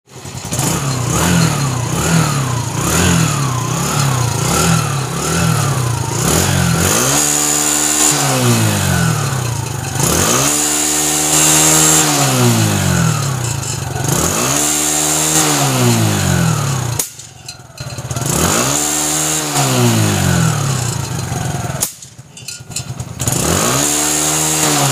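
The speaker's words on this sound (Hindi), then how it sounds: "इसमें जब हम थ्रोटल खींचते हैं और वापस से बंद करते हैं तो उस समय पटाखा इसमें फूट रहा है।" TVS motorcycle with a carburetor fault, engine revving repeatedly as the throttle is pulled and released, rising and falling whine with sharp popping backfires on deceleration, loud and close throughout.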